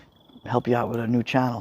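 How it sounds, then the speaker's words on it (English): Crickets chirp outdoors during a nighttime fire pit gathering in New York, a faint steady high trill heard alone at first and then continuing under people talking. "I hear the crickets in the background."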